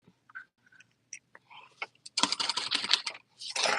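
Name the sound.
zipper of a beauty bag pulled open or closed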